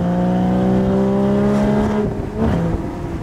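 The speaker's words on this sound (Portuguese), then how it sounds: "olha que carro nervoso" Porsche sports car engine revving loudly up close, a steady sustained roar with rising and falling pitch and a brief dip in the middle, with no talking over it.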